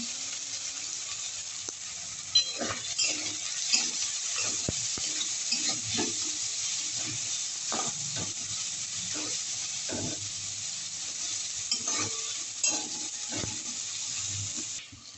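Onions and green chillies sizzle steadily in a pan with salt and turmeric while a spoon scrapes and clinks in irregular strokes; the frying is close, continuous and even, with no voices.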